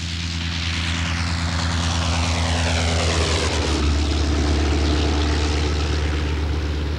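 An early propeller airplane passes with a loud, droning engine and airscrew hum, its pitch sliding downward around the midpoint as it goes by.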